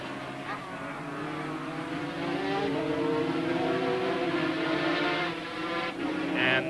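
Superbikes at a 1984 race scream past on a track, their engines droning loudly and rising as riders exit a corner onto the back straight, with commentary running over them.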